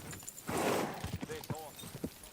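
Horse hooves clip-clopping in a quick uneven rhythm as the animal turns sharply, fairly faint, with a short burst of rustling and a voice talking briefly over the steps.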